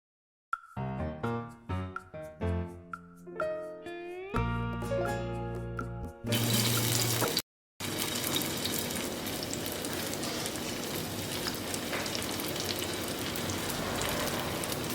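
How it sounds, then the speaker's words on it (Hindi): Raw mango and beetroot tikkis fry in oil in a non-stick pan over a medium flame, giving a loud, continuous sizzle that follows a short musical intro. "तेल डालकर इसमें हम टिक्कियों को धीरे धीरे डालते रहेंगे"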